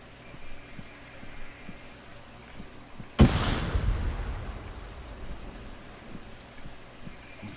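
A frag grenade in the Arma 3 military game goes off as one sharp, loud blast, followed by a low rumbling tail that fades over a few seconds against quiet background ambience.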